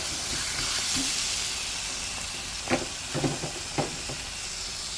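A porterhouse steak on a barbecue grill sizzles and hisses steadily after a flip, with a few sharp pops and crackles from the fat toward the end.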